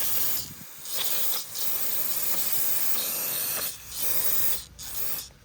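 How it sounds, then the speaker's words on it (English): Close hissing bursts of brake cleaner aerosol sprayed on a 2013 Nissan Altima valve cover, several in a row with short pauses, the longest lasting about two seconds. "I'll use a brake cleaner."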